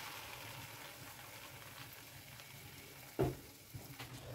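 Onion and tomato paste fries in a pan for a masala paratha, giving a quiet, steady sizzle with one sharp clatter near the end followed by a few small knocks.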